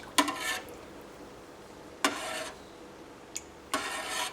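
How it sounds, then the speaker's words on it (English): A slotted spoon drawn through a pot of milk being made into cheese at home, giving four slow scraping, swishing strokes with pauses between them, close and fairly quiet with no talking. "what you need to do is not just stir it round, but you're also trying to get the bottom to the top and the top to the bottom"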